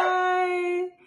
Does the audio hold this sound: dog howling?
yes